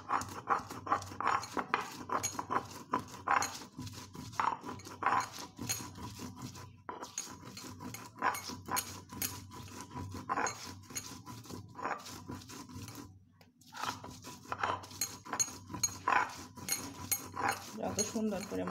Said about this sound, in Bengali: আমি এখন শিলপাটাতে মশলাটা পিষে নেব।